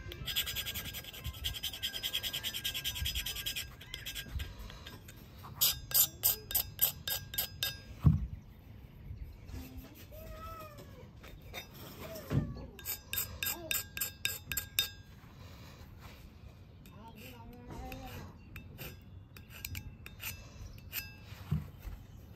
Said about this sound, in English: So I'm gonna see if I can scratch off this powder coating and get down to bare metal.